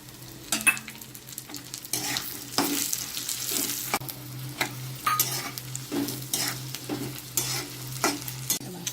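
Mint and coconut dry-roast in a hot pan, giving a steady soft sizzle broken by repeated scraping stirs of a spatula, close and moderately loud, with no talk.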